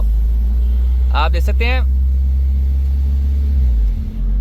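A car engine, recently fitted with a new setup after throttle body servicing, idles with a steady low rumble throughout. Someone speaks briefly over it.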